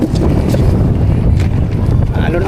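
Steady wind buffets a small fishing boat on rough, choppy sea while out catching tamban, a continuous loud rush of air and water with low rumbling and no clear breaks.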